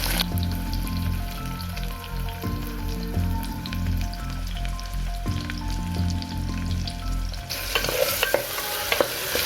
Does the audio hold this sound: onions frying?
yes